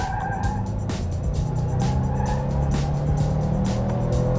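Tires of a 2018 Subaru WRX STI Type RA scrub and squeal on a racetrack, a steady loud rush of tire noise over engine drone that stays dense throughout.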